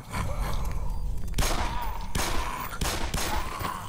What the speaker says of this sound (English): See, it's called you shoot them.